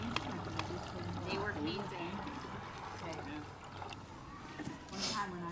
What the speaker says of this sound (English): Come out of the press into the bucket